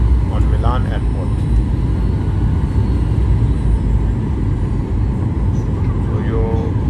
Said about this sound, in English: Our plane going to landing on Milan Airport.